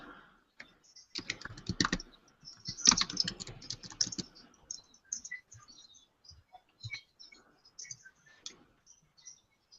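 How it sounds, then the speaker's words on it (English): Quick bursts of typing on a computer keyboard, close and crisp, followed by sparse single key clicks, quiet with no talking. "Type your words in here."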